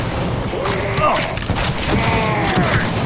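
Gunfire bursts and heavy thumps from a shootout in the video game Cyberpunk 2077, dense and close, layered with game noise and character speech.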